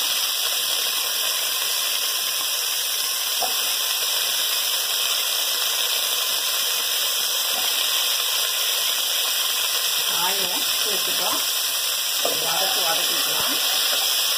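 Chopped vegetables sauté in a pan for bisi bele bath, a steady, even hiss that runs unbroken throughout, with a brief murmur of a voice near the end.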